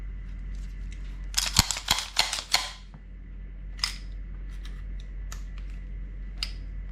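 A CZ pistol is handled and checked, giving a quick cluster of sharp metallic clicks and clacks followed by a few isolated snaps, close and fairly quiet over a low background hum.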